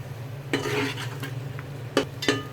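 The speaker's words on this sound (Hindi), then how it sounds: "फिर मसालों को अच्छी तरह भून लें।" Spices are stirred and roasted in a pan for chana pulao, with a low sizzle beneath a few distinct scraping and clinking strokes of a spoon against the metal, close and fairly quiet.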